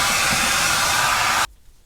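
A hair dryer blows steadily and loudly at close range while drying freshly bleached and dyed hair, then cuts off abruptly near the end, leaving near silence.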